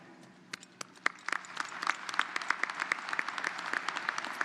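A commencement audience at Oklahoma State University's fall 2022 ceremony applauds the Board of Regents. Scattered claps start sparsely, then build into dense, lively group clapping with a few crisp hand claps standing out near the microphone.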